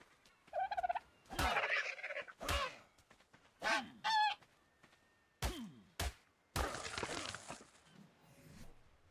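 Dodo birds in the survival game ARK on The Island, with several short honking, gobbling squawks in quick bursts, close and loud, amid thuds and rustling.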